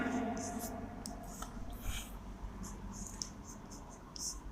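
Marker or chalk strokes scratch across a classroom board in short bursts during a chemistry lesson, quiet and close, with no talking over them.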